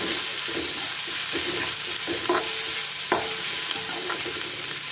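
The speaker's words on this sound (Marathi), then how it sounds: "आता मी कांद्याचंही भाजून घेणार आहे" Onions sizzle and crackle steadily in a hot pan while frying for a smoky aubergine bharit, with occasional scrapes and clinks of a spatula stirring them.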